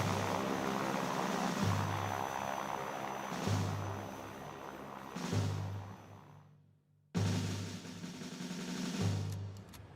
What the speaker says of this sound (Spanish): Un grupo de aviones llega desde el Palomar y arroja volantes sobre la ciudad.